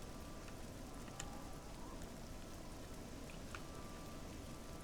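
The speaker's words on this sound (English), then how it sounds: "So as you can see, it's still raining, so it hasn't reset." Steady, faint rain hissing in the Oblivion game world, an even wash of patter with no talk over it.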